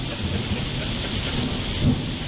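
A heavy thunderstorm with rain pouring steadily and loud rolling thunder building near the end, close and full, with no voices.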